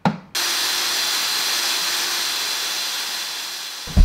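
Sanding on a Mazda MX-5 body panel with 240 grit paper during DIY rust and corrosion repair, a steady loud hissing rasp that holds continuously for nearly four seconds, alone, with brief knocks at the start and end.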